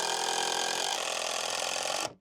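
A power driver sinks a 70mm screw into timber loft supports, a close mechanical whir that runs steadily for about two seconds and then stops abruptly.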